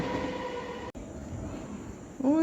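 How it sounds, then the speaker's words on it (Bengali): A train passes at night, rumbling steadily, with a sudden high wheel squeal rising near the end. It sounds fairly close, with no voices. "ওই দেখো রাত্রেবেলা যাচ্ছে ট্রেন"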